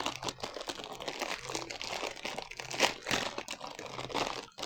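Crinkly plastic packaging of a Japanese noodle pack being opened by hand, steady close rustling and crackling with a few sharper crunches, fairly quiet throughout.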